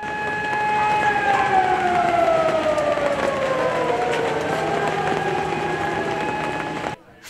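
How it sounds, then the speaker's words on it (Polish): Commemorative civil-defense sirens wail loudly across Warsaw at 5 p.m. on 1 August, the Warsaw Uprising anniversary, rising and sliding in pitch with overlapping tones for several seconds before cutting off abruptly. "Syreny zawyły 1 sierpnia o godzinie 17."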